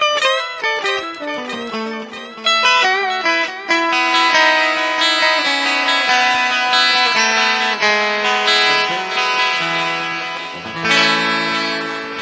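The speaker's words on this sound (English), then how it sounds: "there seems to be somehow a kind of ugly clipping distortion" An instrument runs through a NUX MG-30 pitch shifter and harmonizer, playing stacked harmonized notes with a harsh, ugly clipping distortion. The phrases are loud and sustained and swell toward the end.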